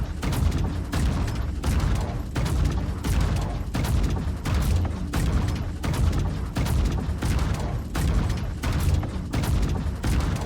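Star Citizen's new ship weapon fires a long, steady stream of loud, booming shots at a quick, regular pace, each blast punching over a continuous low mechanical rumble with no talking.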